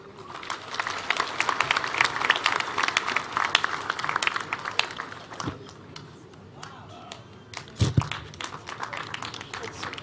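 Sustained, dense applause from a large audience at the Machakos University graduation ceremony, steady and full for several seconds before thinning briefly and swelling again.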